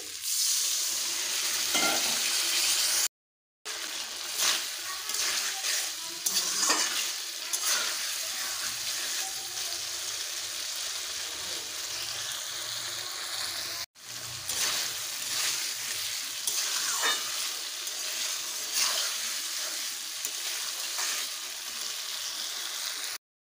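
Fried potatoes and pointed gourd are stir-fried in a pan for Bengali aloo potol kosha, a continuous loud sizzle with repeated scraping and stirring strokes, briefly cut by two short gaps.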